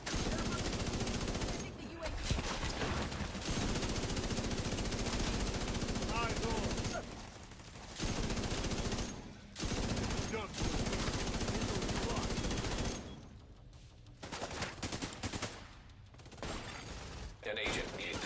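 Sniper and weapon fire in The Division 2 video game: loud, dense bursts of gunfire and rapid shots nearly nonstop, broken by a few short lulls and a longer quieter stretch near the end.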